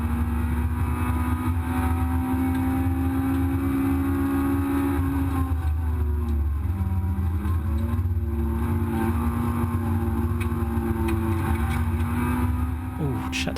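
Recorded in the cockpit at Brands Hatch, a race car engine drones steadily and loudly throughout, its pitch rising and dipping through gear changes and corners, with a driver speaking over it.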